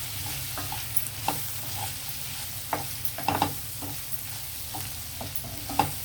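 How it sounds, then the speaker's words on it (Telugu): Prawns frying with chopped garlic, soy sauce and other sauces in a pan, stirred with a steady sizzle and scattered scraping knocks of the utensil, fairly quiet and close, with no talking. "ఒకసారి కలుపుదాం."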